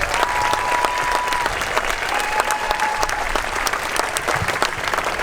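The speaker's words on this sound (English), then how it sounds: "how about a round of applause for all of our student performers?" A school audience applauds student performers at an elementary May Day celebration, steady dense clapping held at an even level for several seconds, with a faint whistle-like tone drifting above it.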